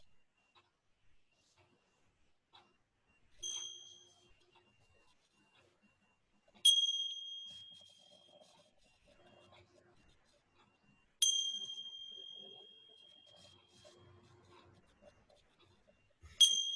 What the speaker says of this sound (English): we will have Heather start with the bells